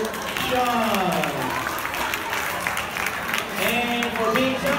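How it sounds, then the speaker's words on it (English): Guests clap at a child's first birthday party, moderate crowd applause running under an adult voice talking over it throughout. "let's take it off and everybody clap it for Sean."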